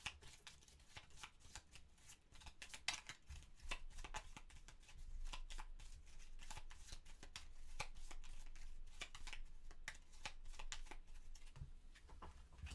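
Deck of cards for a solo board game being shuffled by hand, a close, quiet run of rapid riffling and flicking bursts that repeat steadily for several seconds.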